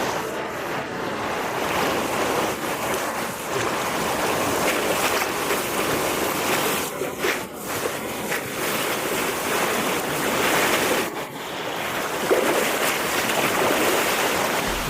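Icy mountain river in the Chechen mountains rushing steadily, a dense continuous roar of water close to the microphone with some wind buffeting, no voices.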